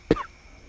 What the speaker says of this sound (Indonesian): jadi batuk